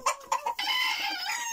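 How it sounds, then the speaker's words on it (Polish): Chickens and a rooster in a poultry coop while grain is scattered, giving several sharp clucks and crow-like calls up close, followed by a sustained overlapping chorus of squawking hens. "teraz trochę popatrzymy sobie na kurki i sypniemy ziarna kurczakom w kurniku"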